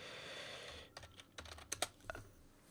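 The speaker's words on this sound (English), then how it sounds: "let me just type this because someone's wanting to know" Quiet keyboard typing on a computer: a short, irregular run of light clicks and taps after a moment of background hiss.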